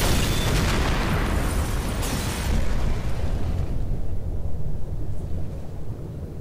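A loud, sustained explosive rumble with crackling bursts in the video game Max Payne 3, a heavy blast that slowly tapers off while low booming continues.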